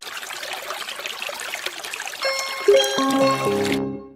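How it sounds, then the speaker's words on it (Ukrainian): A small stream babbles and trickles steadily in nature, close and moderately loud with no voices, as a gentle chiming musical tone enters over the flowing water in the second half before everything cuts off. "А так звучить струмочок."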